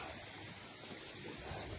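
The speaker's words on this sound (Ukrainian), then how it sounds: "Такі тут хвилі, краса." Broadband wash of river waves near the Dnipro rapids, a steady surging rush with wind buffeting the microphone, continuous and fairly close, no voices.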